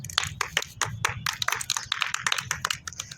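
Children clapping for a walking toy bird, a quick run of sharp, uneven handclaps close by, brisk and lively throughout.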